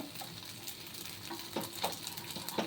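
Paddu (panganalu) batter sizzles and fries steadily in a pan, with a few soft clicks of a spoon turning them, close and fairly quiet with no talking.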